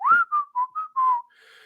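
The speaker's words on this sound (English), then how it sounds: "We see Jack in front of the well whistling." A man whistles in front of a well in the film Color Out of Space: a short, clear melodic phrase of five notes, close and alone, fading into a faint tonal hum.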